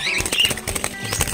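A quick flurry of wingbeats from pet parakeets being moved into a breeding cage, close and fairly loud, with a faint chirp mixed in.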